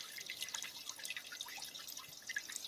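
Water droplets dripping amid crackling electrostatic discharge, a dense stream of faint, quick high ticks and pops scattered steadily throughout, fairly quiet and with no voices.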